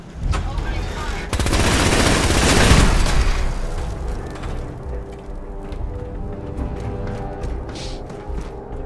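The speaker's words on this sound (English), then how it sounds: "Opening fire." Gunfire in Fallout 4, a loud sustained automatic burst with mechanical rattling that tails off into scattered clicks and lighter sounds.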